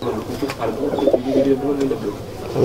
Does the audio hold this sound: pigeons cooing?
yes